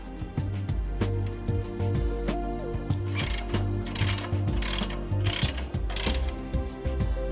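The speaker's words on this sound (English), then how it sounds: "Center the first plate over the holes and use the bolts provided to attach it to the conveyor" Close, steady clicking of a ratchet with a low mechanical hum underneath, tightening the bolts that hold a mounting plate to a conveyor belt structure, with no voices.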